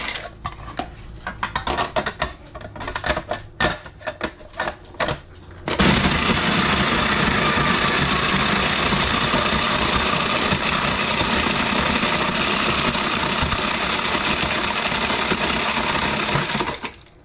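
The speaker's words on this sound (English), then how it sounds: "I'm just gonna add my ice to the top of the snow cone machine" A snow cone machine shaving ice for a morning shake starts up partway through with a loud, steady grinding roar that holds at even level until it cuts off at the end, after several seconds of clattering handling sounds.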